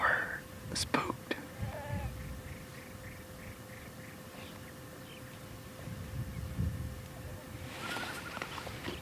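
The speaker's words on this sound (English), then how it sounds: "so many goats to the left" Wild goats on a Hawaii island hunt bleat faintly in the distance, a few brief calls rising over steady outdoor background, with people whispering nearby.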